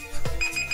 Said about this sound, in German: da klingelt der Timer